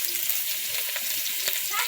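Chopped onion and garlic frying in a pan, an even, loud hiss of oil with faint stirring ticks throughout.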